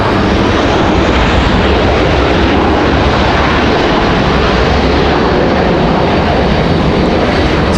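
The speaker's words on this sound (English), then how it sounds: "this one coming in from Philadelphia. 1 hour of flight time for that A319." An Airbus A319 arriving from Philadelphia at Raleigh-Durham International roars loudly and steadily, its broad jet engine noise filling the whole stretch without a break.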